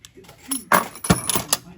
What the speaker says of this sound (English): an old lock, complete with all the keys.